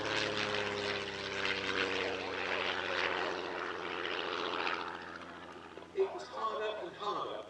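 A 1935 propeller-driven racing aircraft, built for British-Brazilian driver Luis Fontes, drones steadily overhead at an airshow, its engine hum continuous beneath someone narrating.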